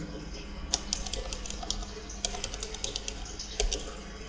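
Computer keyboard keys pressed during Ubuntu server setup in a terminal, a sparse run of light clicks and taps with a few sharper key strikes, close and fairly quiet with no talk.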